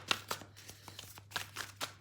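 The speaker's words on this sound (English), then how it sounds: "This is a really hard deck to shuffle actually, because it's really fat." A thick, fat deck of tarot cards being shuffled by hand, a series of quick riffling bursts and soft card slaps close by, over a faint steady hum.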